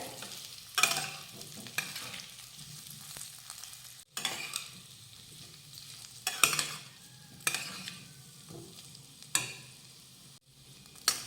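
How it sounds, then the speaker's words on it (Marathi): Boiled, peeled potatoes are sautéed in a pan: soft frying sizzle punctuated by a series of spatula scrapes and stirs at irregular intervals, fairly quiet and close, with no voices. "आता हा बटाटा थोडासा परतून घेऊयात"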